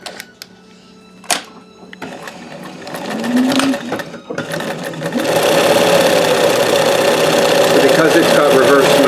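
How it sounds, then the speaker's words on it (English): A Janome 672 sewing machine doing straight stitching on fabric for a moonscape piece: a few clicks and short whirs, then a steady, fast mechanical hum of stitching running close, with a person talking over the first part. "So I'll show you the stitching as always, with just normal stitching."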